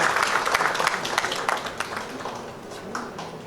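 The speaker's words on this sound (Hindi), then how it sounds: "जोरदार तालियों से संजीव जयसवाल का" An audience at a book launch for Dard Bhari Muskan claps loudly and thickly, the applause strongest at the start and tapering slightly as it goes on, with no voices rising above it.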